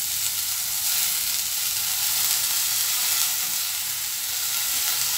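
Vegetables dropped into hot oil with green chillies sizzle loudly and evenly, a dense, steady hiss of frying that carries on without a break and with no talk.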